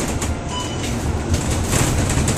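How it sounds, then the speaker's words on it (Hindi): A train from Malaysia arriving at Woodlands Checkpoint on the Singapore border, heard as a loud, continuous rail rumble and clatter close by, with no voices. "मलेशिया से जो सिंगापुर के लिए ट्रेन आई है"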